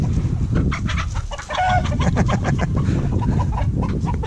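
Several chickens cluck and squawk close by in a busy, overlapping flurry, with an occasional higher cry among them.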